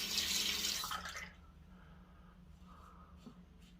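Tap water gushes as a shaving razor fitted with a Nacet blade is rinsed, loud and hissing for about a second before it cuts off, leaving a faint room hum and a few light drips.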